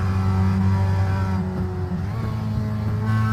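Mazda MX5 race cars in iRacing, an endurance race at the Nürburgring, give a steady loud engine drone with strong harmonic tones that shift slightly in pitch as cars accelerate and pass.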